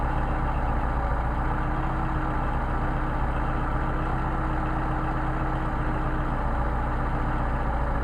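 A Mercedes 190SL engine with Solex carburetors idles steadily with a low, even rumble, holding close and constant with no voices.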